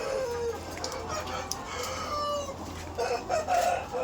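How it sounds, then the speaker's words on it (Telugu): Egg-laying hens at a poultry farm cluck and squawk continuously, a dense, busy flock chorus with sharper calls rising over the din. "కానీ ఈ కోళ్ళు ఉరడంతోనే హెడేక్ స్టార్ట్ అయింది నాకు. ఒకటే రేంజ్లో ఉరుతున్నాయి"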